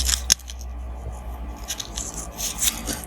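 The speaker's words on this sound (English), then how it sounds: "Those were scissors." A single sharp snip of scissors rings out near the start, followed by faint rustling and small clicks in a quiet room.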